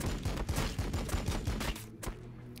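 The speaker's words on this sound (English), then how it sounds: "Turn, face, and shoot. That's a pretty good volley." A rapid volley of gunfire from the Warhammer 40,000: Battlesector video game, a quick run of sharp repeated shots that cuts off before a brief tail of quieter clatter.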